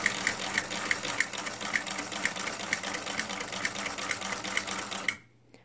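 Singer sewing machine fitted with a buttonholer attachment stitching a buttonhole: steady fast whirring with regular clicking ticks, close and continuous for about five seconds before stopping abruptly.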